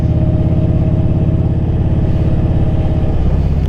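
A Kawasaki Vaquero 1700cc V-twin motorcycle engine thrums loud and close while riding, holding a steady low pulsing drone throughout with a slight shift in tone near the end.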